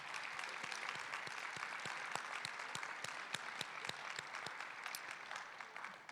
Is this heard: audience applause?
yes